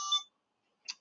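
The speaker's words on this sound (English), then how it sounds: "That's just my alarm." Two short electronic alarm beeps, a bright tonal chirp and then a second brief bleep after a pause of silence, faint and clean with no talk.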